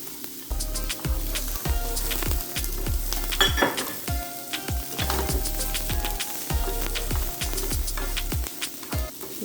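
Cabbage stir-frying for chicken chow mein, a steady sizzle broken by rhythmic scraping and clanking of a utensil against the pan, repeating every half second or so, close and moderately loud.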